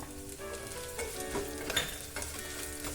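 Pepper and cumin sizzling and frying in a pan for broken wheat khara pongal, a steady close crackle with occasional stirring scrapes and no voices.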